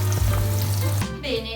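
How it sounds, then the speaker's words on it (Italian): Floured eggplant slices frying in oil make a loud, steady sizzle with crackling bubbles, close up and alone, shifting in tone near the end as the pan is disturbed. "andiamo a friggere le nostre melanzane per un paio di minuti"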